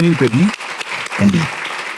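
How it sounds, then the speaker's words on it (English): Audience applause at a talk, loud, continuous clapping filling the room while someone speaks over the start and again near the end. "Let's give him a round of applause."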